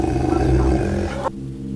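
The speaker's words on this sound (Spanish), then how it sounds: "Can, en actitud agresiva, seguía gruñendo." A dog growls aggressively in a low, rough snarl that rumbles continuously for about a second before cutting off abruptly, loud and close.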